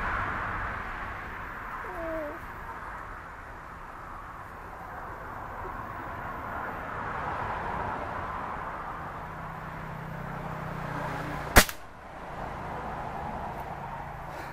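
One sharp, sudden crack of a Hatsan 125 Sniper Vortex air rifle shot breaks through a steady outdoor ambience; the rest is quiet background.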